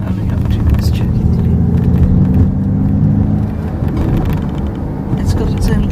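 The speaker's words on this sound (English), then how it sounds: "now we're going to put it in untamed mode so it's full speed, but we have propulsion sound" A Ford Mustang Mach-E AWD Extended Range electric car plays its artificial propulsion sound in untamed mode, a steady low synthetic hum and whir heard up close under speech.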